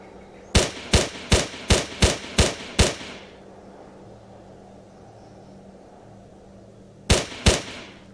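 During a tactical training exercise, seven sharp gunshots ring out in a steady, evenly spaced string, loud and close. A low hum fills a quiet pause before two more shots follow in quick succession.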